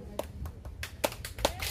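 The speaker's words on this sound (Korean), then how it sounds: "다 같이 박수" Audience at a Korean street performance clapping along, heard as a run of sharp, uneven claps spread across the moment, with a voice calling out over the claps.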